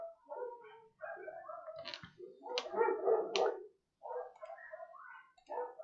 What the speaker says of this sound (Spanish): Se alborotaron todos estos perros de por acá.